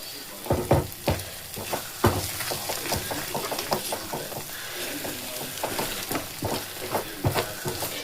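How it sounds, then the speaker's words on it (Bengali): Green pea paratha filling frying and being stirred in a pan over a high gas flame, a steady close sizzle broken by sharp, irregular scraping clatters of the spatula against the pan, with no voices. "এবার এগুলোকে সব ভালো করে মিশিয়ে আমি কষিয়ে নেব।"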